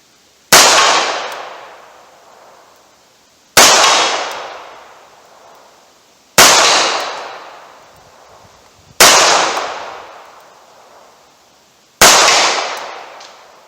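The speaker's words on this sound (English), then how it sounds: "I'll see if I can hit it with a few rounds of this." Five loud snub-nosed revolver shots fired with wadcutter rounds at a propane tank 40 yards away, evenly spaced about three seconds apart, each a sharp crack with a long ringing decay outdoors.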